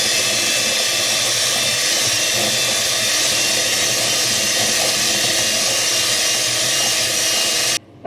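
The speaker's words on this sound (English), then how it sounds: "I've just whisked the sugar and the butter together for just under 3 minutes" Electric mixer whisking softened butter and sugar together in a bowl for cake batter, a steady loud continuous whirring hiss throughout that cuts off abruptly right at the end.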